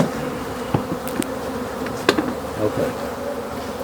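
Honey bees buzzing around an opened hive, a dense steady hum close by with individual bees zipping past the microphone, and a brief spoken word over it.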